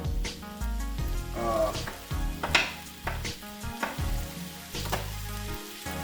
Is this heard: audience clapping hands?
no